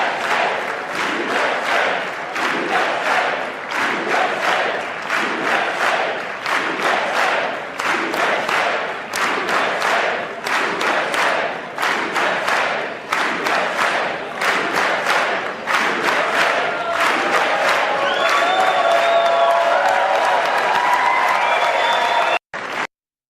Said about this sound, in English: giving him a round of applause for turning the country around, or at least trying